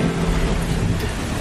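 Steady background rain with thunder, a dense, loud wash of rainfall with low rumbling underneath, continuous and without talking.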